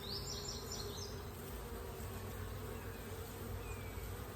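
Swarming honeybees hum densely around a hive box in a bee yard, a steady close buzz with individual bees passing near, with no talking.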